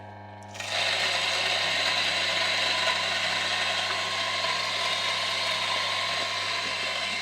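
A Maza home burr grinder grinding coffee beans at setting 18, a steady loud mechanical whir with a fine ratcheting rattle that starts abruptly and runs unbroken for several seconds, with no voices.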